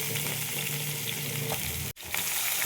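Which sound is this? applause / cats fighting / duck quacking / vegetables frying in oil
vegetables frying in oil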